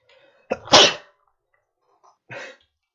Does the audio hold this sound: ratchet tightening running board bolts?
no